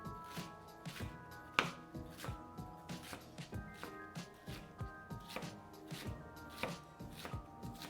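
A knife cuts food into big slices on a cutting board, giving a series of distinct woody thunks at an irregular, unhurried pace, close and fairly quiet, with no talking.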